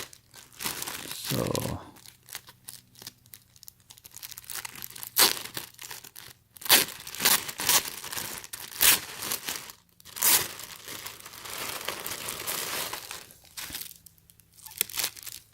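A torn plastic bag crinkles and crunches loudly while a Kohl's mystery gift is unboxed, in repeated sharp rustling bursts with brief pauses between them and a short spoken word.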